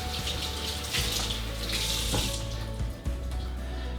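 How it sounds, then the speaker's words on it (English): Cold water runs steadily from a kitchen tap over a reusable food wrap being rinsed in the sink, a continuous close splashing hiss with brief shifts as the wrap is moved under the stream. "So you just use some cold water. You can rinse it off just like this."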